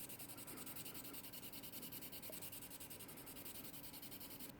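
Fine 1000-grit sandpaper rubs back and forth over a 3D-printed figure, giving a faint, continuous soft scratching hiss with a gentle repetitive rhythm, close and alone.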